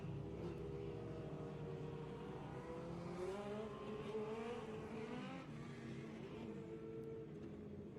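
Several 360 sprint race cars on a dirt track at East Bay Raceway Park, engines droning and shifting pitch together as they circle, a dense, steady, loud roar with rising and falling tones throughout.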